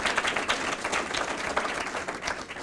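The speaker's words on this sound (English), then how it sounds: "Let's give her a round of applause." Audience applause at a county organization's mid-year financial meeting, steady dense clapping from a room of people for nearly three seconds, fairly loud and even throughout.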